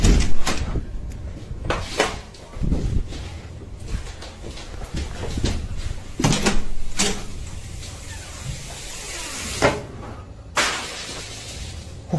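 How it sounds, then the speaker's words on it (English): Doors repeatedly bang and thud, with creaks and scraping between impacts; irregular loud knocks spread throughout, some echoing, with brief voices mixed in. "Doors swung open by themselves, chairs scraped across the floor, and the sound of loud banging echoed"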